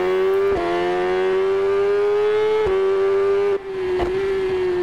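A Yamaha YZF R6 sport bike engine in the TT Isle of Man racing game holds a loud, steady high-pitched rev, with brief dips at each gear blip or throttle change, alone without talk.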